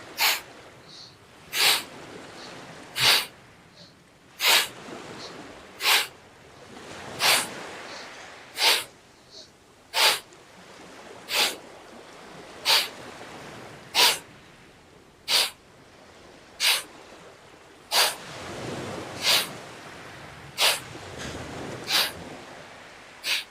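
Sharp, rhythmic breaths during an active yoga breathing exercise, about sixteen forceful nasal exhales at steady intervals, close and loud, with softer inhales between them and no talking.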